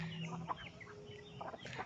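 A passing duck quacking and clucking close by, a quick run of short nasal calls over quiet background.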